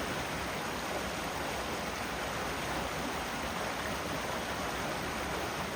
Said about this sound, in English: Oh, there's another little waterfall.